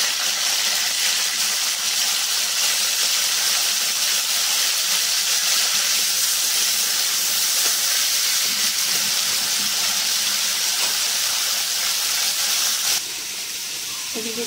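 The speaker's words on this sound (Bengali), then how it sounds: "তেলটা গরম হয়ে গেছে, ফুলকপিগুলো এবার ভেজে নেবো।" Cauliflower pieces fry in hot oil, giving a steady, loud broadband hiss and sizzle that runs unbroken before easing slightly at the end.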